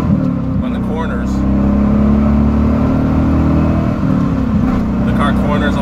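A Chevrolet C4 Corvette engine revving inside a tunnel, a loud, droning, echoing rumble that swells and holds steady, close and continuous, with faint talk beneath it.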